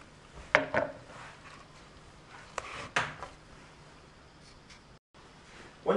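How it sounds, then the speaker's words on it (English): A kitchen knife cuts an apple half into quarters, giving a few sharp, close taps and crunches against a cutting board, with quiet gaps between them and no one talking. "you're going to cut one of the halves into quarters"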